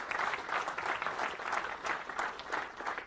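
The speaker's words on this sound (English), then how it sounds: "A round of applause," Audience applauding at a technology conference launch event, a dense steady wash of many hands clapping throughout, moderately loud and without voices.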